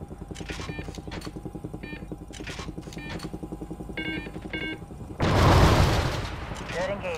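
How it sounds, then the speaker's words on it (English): Missiles launch in a helicopter air-support mission in Call of Duty: Ghosts, heard as a loud whooshing roar that bursts in late over a constant pulsing rotor drone, with radio beeps and chatter before it. "firing missiles"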